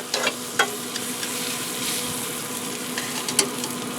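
Redfish pieces fry in butter in a pan with a steady close sizzle, broken by a few sharp crackles and the clink of a utensil moving the fish.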